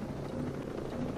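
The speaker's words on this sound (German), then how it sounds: "Gegner-Heli." An enemy helicopter in the video game Ghost Recon Breakpoint drones with a steady, low rotor buzz that stays constant throughout.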